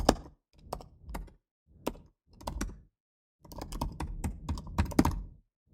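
Computer keyboard typing a command-line entry, close-up bursts of rapid key clicks and clacks separated by brief pauses, growing into a denser flurry near the end, no talking.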